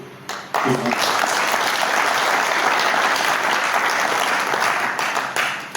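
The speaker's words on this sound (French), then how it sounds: "vous applaudissez en même temps tous les anciens membres du comité sortant" Loud, dense applause from an assembled audience at a committee installation ceremony, bursting in after a brief pause and holding steady for several seconds before easing near the end.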